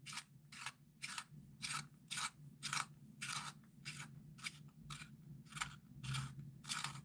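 Rhythmic scraping of a drawing pencil being sharpened, repeated short rasping strokes at a steady pace, close up and fairly quiet over a low background hum.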